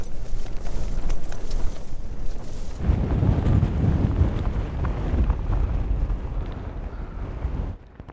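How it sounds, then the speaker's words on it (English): Strong wind roars across an exposed Lake District fell at a wild camp, loud buffeting gusts that surge heavier midway and then drop off abruptly near the end, with no voices. "Really strong winds this morning."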